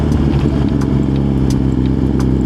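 A Honda Grom motorcycle engine idles and burbles steadily nearby, a continuous low mechanical drone with light clatter and no talk.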